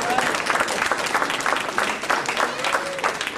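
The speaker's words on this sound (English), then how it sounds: "I think that deserves a round of applause in and of itself" Audience applauding at a retirement party during a comedian's set, a dense steady round of clapping from a nearby crowd with faint voices mixed in.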